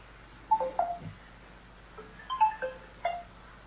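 Telephone keypad tones beep in two short bursts of quick dialing, clear but fairly quiet against a faint steady hum.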